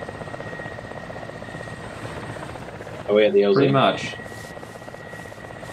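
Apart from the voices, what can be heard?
helicopter flying close by, from a video game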